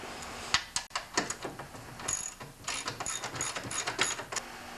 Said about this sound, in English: Next, I'm going to remove the top bolt.